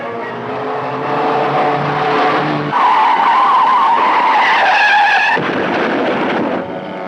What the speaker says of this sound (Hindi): धुंध से घिरी एक रात चंद्रशेखर यानी नवीन निश्चल की कार एक पेड़ से जा टकराई।